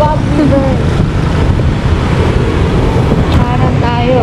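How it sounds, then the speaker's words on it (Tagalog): Lawag River water rushing steadily under strong wind buffeting the microphone, a loud continuous wash of flowing water and gusts throughout, with a faint voice or two briefly audible beneath the roar. "Ilog ni Lawag. Lawag River."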